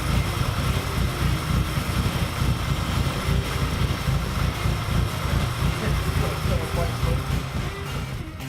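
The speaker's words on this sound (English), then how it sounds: "what the problem we've been having with this thing is that it's been idling super rough" A Nissan SR20 engine idles roughly and steadily up close, a dense low rumble with a choppy, uneven beat running for several seconds.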